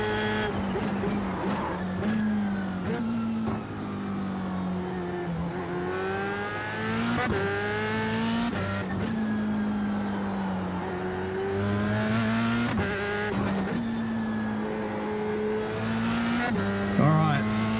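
Race car engine in a racing video game drones and rises and falls through shifts, a loud steady whine with tire noise throughout and occasional sharp clicks.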